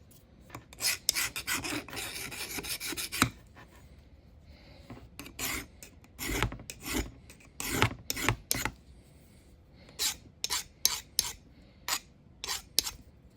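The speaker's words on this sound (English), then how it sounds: "I just need to do a little bit of deburring on it" Hand file deburring a machined carbide insert tool holder, rasping strokes close up, first a fast run of strokes, then separate scrapes in uneven rhythm, no voices.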